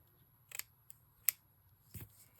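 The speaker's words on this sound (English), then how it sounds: "let me just give that a snip" Scissors snip through lace in a handful of crisp, close cuts, spaced apart over a quiet background with a faint low hum.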